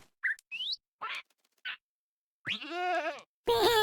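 A goat in the Minecraft video game bleats in short, wavering cries, several brief calls and then a longer, quavering bleat, loud and close against silence.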